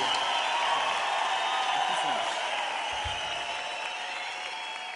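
Steady applause from a large live concert crowd in Brazil, dense and continuous throughout, with a slight fade toward the end.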